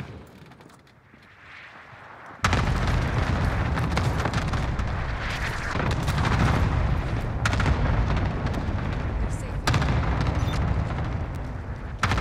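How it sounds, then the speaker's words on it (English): A cluster strike lands in a video game: after a quiet lead-in, a dense, sustained roar of overlapping explosions and booms erupts and rumbles on loudly for about ten seconds, with occasional sharper blasts. "Cluster strike arriving."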